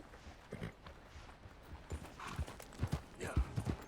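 Horse hooves clip-clop in Red Dead Redemption 2, a walking gait of irregular thuds that starts sparse and grows louder and closer toward the end, over faint background ambience.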